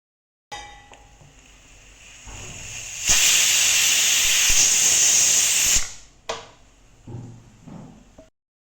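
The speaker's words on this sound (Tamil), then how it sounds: "மூடிட்டு நான் 3 விசில் ஹையில் 1 விசில் மீடியமில் விடுறேன்." A pressure cooker whistle vents steam with a steady hiss that swells into a loud, whistling rush for a few seconds, then cuts off abruptly.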